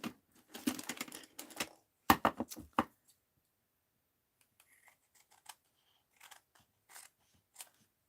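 Scissors trim paper for card making in quick bursts of close, crisp snips, one run followed by a shorter second run, then only faint scattered rustles in a quiet room.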